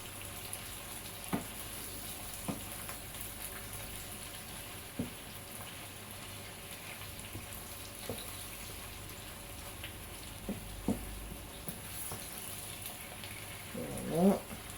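Salted fish and pepper pieces fry quietly in a pan with a soft, continuous crackle. A few light taps and clinks break in, and a brief louder scrape comes near the end.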